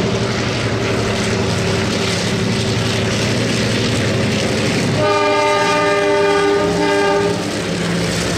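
A Steam Inc tour train with a 1957 Clyde Engineering locomotive departs Kaikoura, rumbling loudly and close, then its horn blasts in a long, sustained chord for a couple of seconds.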